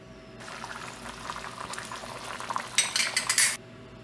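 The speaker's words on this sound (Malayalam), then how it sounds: "അപ്പോൾ ഇനി അമ്മ ഇളക്കി നോക്കുന്നുണ്ട് നമുക്കിതാ വെന്തിട്ടുണ്ട്" A pot of fish curry bubbles steadily at the boil while a utensil stirs through it, with scraping and clinks against the pot rising louder toward the end, close by and with no talking.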